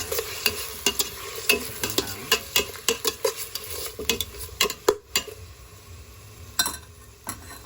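Ginger sautéing in a pan for Filipino pinangat, with a spatula scraping and stirring in a quick, uneven rhythm of sharp clinks over a low, steady sizzle, close and fairly loud.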